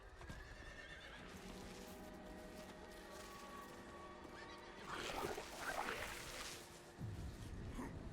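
A horse whinnies loudly over steady Diablo IV game music and ambience, with hoofbeats clopping briefly near the end.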